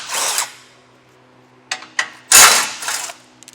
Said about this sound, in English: I got my 16mm socket. I'm going to take these 2 bolts off.